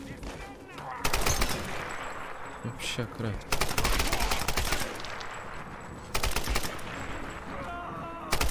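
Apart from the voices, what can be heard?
gunfire in the video game Tomb Raider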